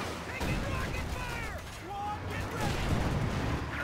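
Anti-tank gun firing at a Panzer IV during a Company of Heroes 2 battle, distant booming gunfire and rumbling explosions blended into dense, continuous battle noise with whistling shells.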